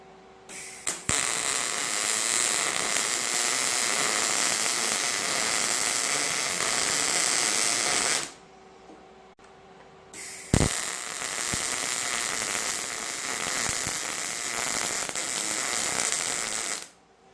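Welding on angle iron run downhill in small circles, a loud steady crackling hiss that holds for about eight seconds, stops briefly, then resumes with a sharp pop and carries on to the end.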